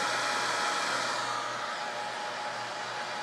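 A 1300 W server power supply's cooling fan whirs in a steady, close, airy rush with a low hum beneath, running unchanged throughout.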